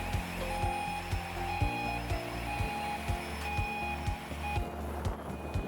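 A container crane travels along its runway at a container terminal, sending out a regular, repeating electronic warning beep over a continuous low mechanical rumble.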